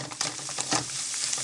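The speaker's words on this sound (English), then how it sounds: "we're going to sprinkle some flour in, and then we want that flour to cook into the butter" Flour cooking into melted butter in a pan for morel mushrooms, giving a soft, steady sizzle broken by light scraping stir strokes, close and moderately quiet, with no voices.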